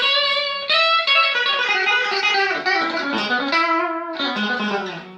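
Silvertone 1449 electric guitar played through its treble Lipstick tube pickup, bright harmonic-rich chords ringing loud and sustained with a few quick changes, close and unaccompanied by talk.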